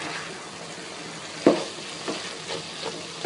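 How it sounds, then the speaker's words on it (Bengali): Malabar spinach stems and potatoes get stirred in a hot pan with a soft, constant sizzle underneath, punctuated by a sharp scrape of the utensil and a few lighter knocks against the pan. "পুঁই শাকের ডাটা এবং আলু দিয়ে এটা ভালো করে মিশিয়ে নিব"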